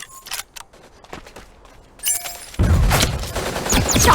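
Gunfire in the mech shooter Super Mecha Champions: scattered sharp shots at first, then a loud dense volley of rapid firing close by, with no one talking.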